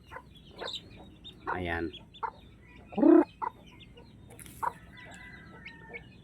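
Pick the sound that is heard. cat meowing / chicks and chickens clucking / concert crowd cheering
chicks and chickens clucking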